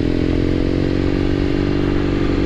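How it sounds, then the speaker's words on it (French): A BMW 1200 NineTrail motorcycle engine runs at a steady, loud idle with a dense, even throb and faint mechanical clatter, and no voices. "Le moteur de ce 1200 est juste magnifique"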